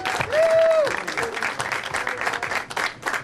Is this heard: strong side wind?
no